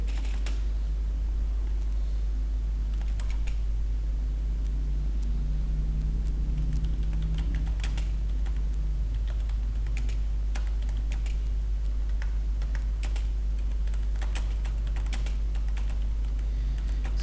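Someone types on a computer keyboard while editing a Word document, pressing Enter, Backspace and the space bar in a steady scatter of light clicks over a constant low hum, with no talking.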